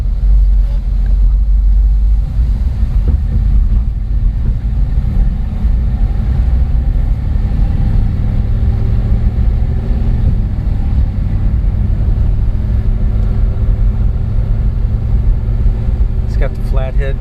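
A 1952 Ford Victoria two-door hardtop with a rebuilt original flathead V8 and automatic transmission drives along, its engine a steady loud rumble under wind and road noise, with voices talking over it.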